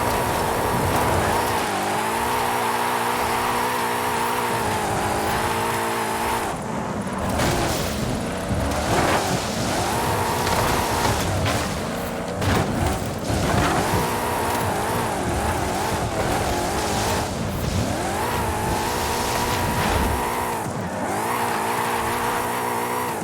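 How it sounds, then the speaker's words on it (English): A car drifting uphill in Forza Horizon 5, with a steady loud engine roar, shifting revs and squealing tires that carry on continuously, with brief dips and surges. "Drifting uphill"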